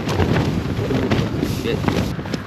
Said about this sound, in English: we've got a bit of a flappy tent going on